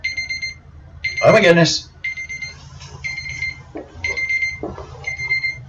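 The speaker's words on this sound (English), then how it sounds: "I'm beeping for some reason." An alarm timer signalling the end of a keto health livestream, repeated bursts of high electronic beeps in a regular on-off pattern, close and clear, with a person briefly exclaiming over one burst.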